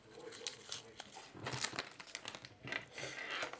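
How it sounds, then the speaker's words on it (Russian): Close crinkling of a plastic packet bundled with wired earphones being handled and torn open, irregular rustling bursts throughout. "Открываем, достаем. Вот такой вот пакетик здесь у нас идет"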